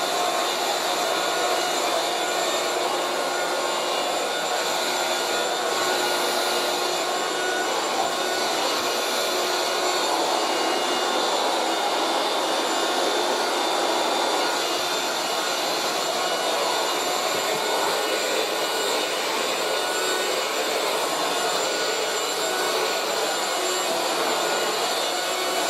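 A 1980s Moulinex Aspirateur No1 237/320 handheld vacuum cleaner runs steadily for the whole stretch, a smooth, fairly quiet whir with a bright, airy high-pitched hiss and no speech.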